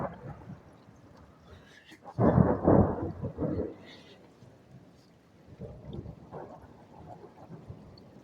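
A deep thunder crack and rumble follows fork lightning during a New Year's Eve thunderstorm in Bristol, Connecticut, rising sharply, then rolling off over steady rain, with a fainter second rumble later.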